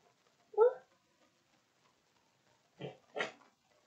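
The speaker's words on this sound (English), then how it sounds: "Why is there pig squealing like hell?" Pig squeals in a video game: one sharp squeal followed after a pause by two harsher, louder squeals in quick succession, against near silence.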